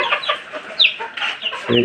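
Chickens and a dominant rooster cluck and squawk close by in a quick run of sharp, overlapping calls, ending in a louder burst of squabbling.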